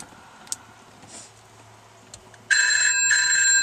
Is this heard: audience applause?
no